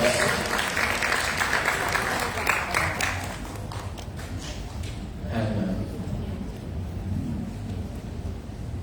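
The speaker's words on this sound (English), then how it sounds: "Please give her a round of applause." An audience at a personal care technology summit in Jakarta applauds a speaker's welcome, the clapping loud at first then thinning out, with some low rumbling and shuffling beneath.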